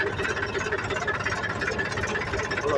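A farm tractor engine running steadily close by, a constant low chugging rumble with even knocking pulses and no voices.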